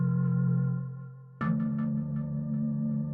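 A sustained synth chord fades, then a bright plucked synth note from DRC's Pop Essentials expansion on iOS hits and repeats as echoing taps that trail off in reverb over a held organ-like tone.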